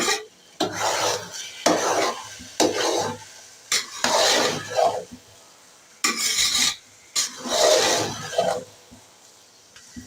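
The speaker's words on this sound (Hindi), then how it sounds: "बस हम इसको 5 से 8 मिनट और भूनेंगे" Gajar ka halwa, a carrot sweet, being stirred and roasted in a pan: repeated rough scraping strokes in uneven bursts with short pauses between them, close and fairly loud, with no voices.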